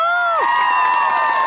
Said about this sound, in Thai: ใครเชียร์เบอร์3ตบมือหน่อยครับ